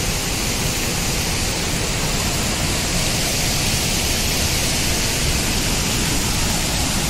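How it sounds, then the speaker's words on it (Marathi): Savdav waterfall near Kankavli in Sindhudurg, Konkan, roars as a steady, dense rush of falling water, loud and unbroken throughout, with no voices rising above it. "सुंदरसा धबधबा आहे बघा"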